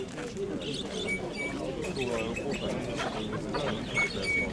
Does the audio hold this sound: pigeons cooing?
yes